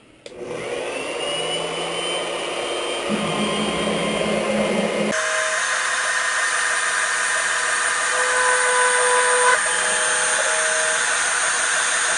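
A machine drills mounting holes in an Embrace racing headlight lens, giving a loud, steady mechanical whine that shifts pitch partway through and runs on without pause.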